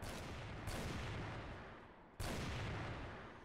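Two loud gunshots ring out in the CrossFire shooting video game, each a sharp blast followed by a long fading echo, spaced about one and a half seconds apart with no talking.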